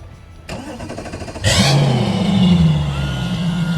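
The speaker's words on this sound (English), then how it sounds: "Start my engine." A Lund boat's outboard motor cranks briefly while on its trailer, then roars to life and settles into a loud, steady idle close by.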